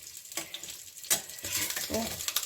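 Oil sizzling in a pan while pitha fries, a soft steady hiss with a few brief utensil scrapes, close and fairly quiet, with no talking.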